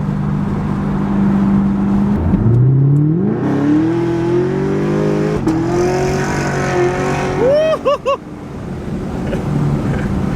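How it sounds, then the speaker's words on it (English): A ProCharged supercharged 2017 Chevrolet Camaro SS accelerates hard with its wheels spinning, the engine note climbing loud and close, then abruptly breaking up as it shifts, with a rising whine over the roar. "drop this sucker into gear and it just spun"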